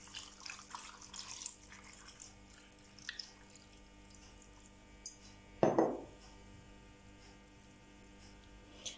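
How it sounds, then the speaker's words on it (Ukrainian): Warm water is poured into a pot holding potatoes, meat and bay leaf for an oven stew. It makes one brief, close splash partway through, with faint kitchen hum and small clinks around it. "І дно каструлі покриваємо водою."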